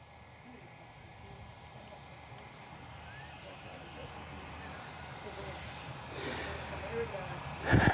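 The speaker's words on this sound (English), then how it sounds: "we've got a Jetstar now departing" Jetstar airliner departing Gold Coast Airport on a morning flight to Cairns, a faint distant jet roar building slowly and steadily, growing louder toward the end, with someone talking over it.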